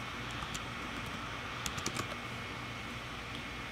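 Quiet typing on a computer keyboard as a search term is entered in a Firefox web browser, a scatter of soft clicks with a brief flurry of keystrokes in the middle over low background hiss.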